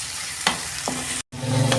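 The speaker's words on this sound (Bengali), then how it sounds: "পেঁয়াজটা আমি একটু লাল লাল করে ভেজে নেব।" Onions fried in a pan with slit green chillies for a fish curry: a steady sizzle and frying hiss with two sharp stirring scrapes, then a brief dropout before the frying resumes, louder and fuller.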